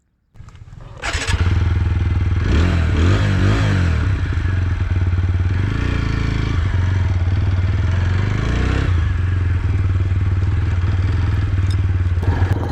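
A new 2025 TVS Apache RTR 160 4V motorcycle with USD forks starts up and rides, its loud, close engine growling steadily with a deep thrumming note and a few swells in revs.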